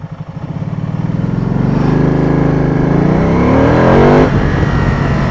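A Can-Am Spyder launching from a standstill, its engine revving up with a rising buzzy tone and then bogging down, heard loud and close with no talk.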